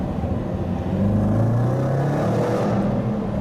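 A Range Rover SVR engine revving and rumbling steadily with exhaust pops, pitch rising and falling as it accelerates, close and loud.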